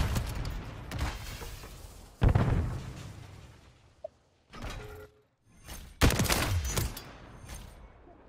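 Sniper rifle shots in Call of Duty MW3 multiplayer ring out as several loud, sharp cracks spread across the clip, with rumbling tails and gaps of quiet between them.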